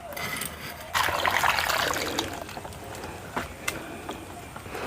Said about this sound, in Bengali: এখন কাঁচা আমগুলোকে ভালো করে ধুয়ে নিচ্ছি, পরে কিন্তু আর ধোবো না।